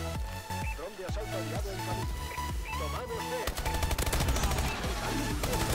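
Sentry turret in the video game Advanced Warfare firing long, rapid bursts of automatic gunfire, loud and continuous, getting denser toward the end over game music and effects.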